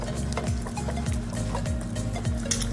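Chocolate lava cake batter with a whole egg and an extra egg yolk is stirred in a bowl, with soft, rhythmic scraping strokes about every half second over a low background hum.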